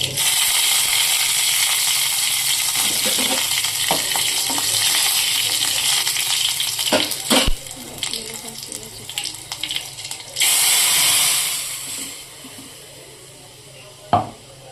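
Curry leaves, mustard seeds and green chili hit hot oil for kadhi, giving a loud bright sizzle that dies back. A few spoon taps and stirring clinks follow, then a second burst of frying crackle and a sharp knock near the end.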